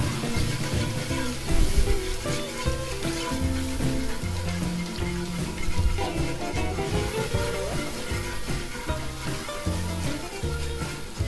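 Milk gravy for country fried steak simmering and sizzling in a pan as it is scraped and stirred. A steady crackling bubble continues throughout, with clinks of the utensil against the pan.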